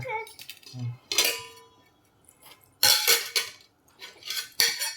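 Dishes and pots clanking in bursts as they are washed, sharp metallic clangs separated by pauses, with a voice faintly at the start.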